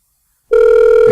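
A telephone rings on an outgoing prank call, a single loud, steady electronic ring tone that starts abruptly after a moment of silence.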